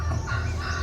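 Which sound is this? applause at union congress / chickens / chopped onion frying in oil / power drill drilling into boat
chickens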